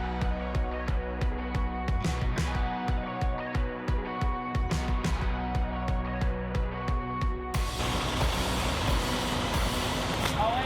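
A delivery truck turns around in the driveway of an off-grid cabin. Its reversing alarm beeps in a steady rhythm over a rumbling engine, then the engine roars louder and rougher as it pulls away.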